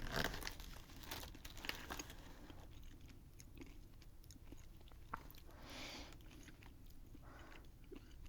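Quiet close-up crunching of a sweet, cereal-like snack, with repeated crisp bites and chewing mixed with soft crinkling of packaging, and no talk.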